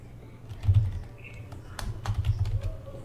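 Computer keyboard typed on while entering a Linux mount command, a short burst of close, quick clicky keystrokes over a low hum.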